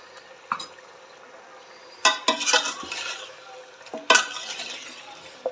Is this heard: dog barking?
no